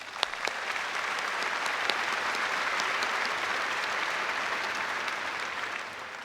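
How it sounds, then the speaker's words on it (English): A commencement crowd applauds its faculty and staff, with dense, sustained clapping from a large audience that holds steady for several seconds before easing slightly, heard from a distance in a big hall. "Another round of applause for our faculty and staff"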